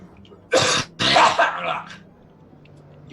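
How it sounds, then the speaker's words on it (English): Two harsh coughs close by, a short one followed by a longer, rougher throat-clearing cough, then quiet. "you cough it up"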